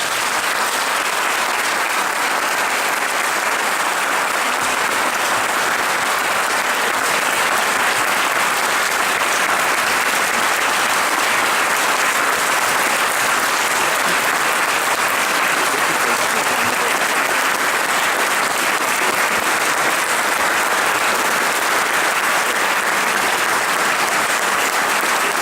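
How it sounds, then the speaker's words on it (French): A vast crowd of tens of thousands applauds, a dense, continuous roar of clapping that holds at a steady level for a long stretch without a break. "On l'applaudit."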